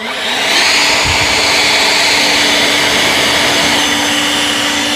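EGO battery leaf blower with a tapered nozzle runs at a steady, loud, close roar with a rushing airflow hiss and a constant whine, holding even for the whole stretch after a quick spin-up.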